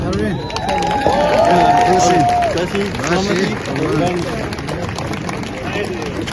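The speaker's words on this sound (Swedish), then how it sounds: "Och med det sagt så vill vi välkomna Polod Shahaban med en varm applåd" Loud, dense applause from an audience at an International Women's Day (8 March) gathering in Gothenburg, Sweden, sustained throughout with a high whistle rising over the clapping partway through.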